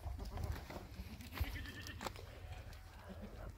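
Sirohi goats bleat faintly and briefly amid farmyard bustle while goats are milked, with people talking nearby over low rumbling background noise.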